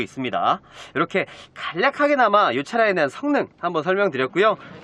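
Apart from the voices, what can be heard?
No distinct noise like a dog, phone or traffic.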